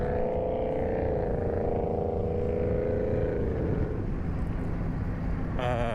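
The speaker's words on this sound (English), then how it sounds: "that car is really, really loud" A loud car passes close by, its engine drone holding steady and then sliding down in pitch as it goes past, with wind rumbling across the microphone throughout.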